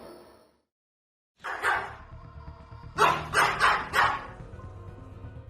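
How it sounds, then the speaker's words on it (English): A dog in a home kitchen barks at the counter: one short bark, a pause, then a rapid burst of four sharp barks, close and moderately loud with no talk. "her dog wouldn't stop barking at the kitchen counter"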